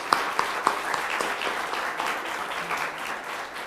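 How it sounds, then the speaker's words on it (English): Steady applause from a crowd at an awards ceremony, dense clapping filling the whole stretch with a few sharper claps near the start. "So another round of applause for all of the winners and recipients."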